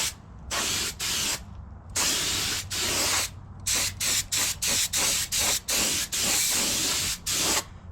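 Bursts of spray paint hiss from an aerosol can onto 1972 Honda CB500 Four motorcycle parts, short and long sprays in irregular rhythm with brief pauses between, close and loud.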